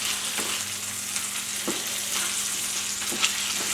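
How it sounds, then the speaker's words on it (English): Asparagus sizzles in a frying pan with garlic, ginger and oil, a constant close hiss of frying broken by a few scraping stirs and clatters of the pan. "Just coating the asparagus with the garlic and ginger and oil as much as I can."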